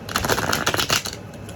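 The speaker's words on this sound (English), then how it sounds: "Let me shuffle this deck." A deck of playing cards being shuffled up close, a dense rapid riffle of crisp flutters and slaps that thins out near the end.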